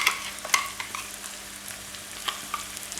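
Ground coconut paste being stirred into cabbage and bitter gourd frying in a pan, with a soft sizzle under scattered scraping and clacking of a spoon against the pan.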